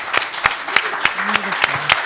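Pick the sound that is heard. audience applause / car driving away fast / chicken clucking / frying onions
audience applause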